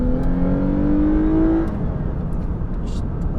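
A rear-wheel-drive Lexus IS 350 (2014–2020 model) accelerates hard while overtaking, its engine note rising steadily in pitch for over a second before easing off into a lower cruising drone heard from inside the cabin.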